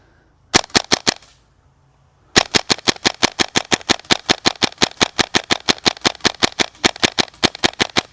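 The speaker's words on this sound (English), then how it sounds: "Let's just run through an entire, I guess, 100 rounds or so, maybe 130 rounds or so on semi" A Tapp Airsoft PP2K running on HPA fires steady semi-auto shots: a short burst of about five sharp cracks, a pause, then a long, evenly paced string of crisp, loud, close reports with no talking.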